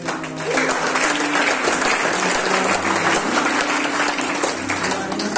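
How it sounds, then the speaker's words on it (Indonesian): A church congregation at a Sunday service applauds together, a dense sustained roar of clapping from many hands that swells quickly and holds steady, with voices faintly beneath it. "Ayo semua berdiri dengan saya dan kasih tepuk tangan buat saudara kita"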